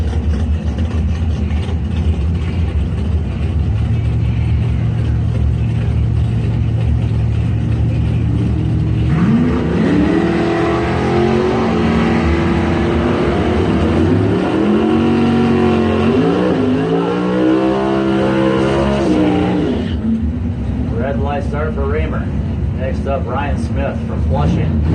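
Doorslammer drag cars, among them a 1972 Chevy Nova, rev loudly and accelerate down the strip with rising, roaring engine pitch, while an announcer talks over the racing throughout.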